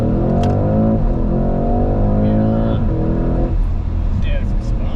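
A Porsche Cayenne E-Hybrid with a twin-turbo V8 accelerates hard, its engine note climbing in a steady rising rev that dips briefly before building again. Loud and close, with excited voices talking over it.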